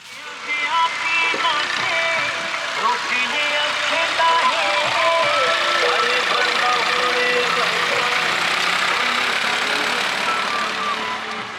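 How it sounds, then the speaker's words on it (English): A tractor's diesel engine idles and rumbles steadily throughout at moderate loudness, with faint mechanical clatter and distant voices mixed in. "Here comes the tractor, bringing fresh clay to the site."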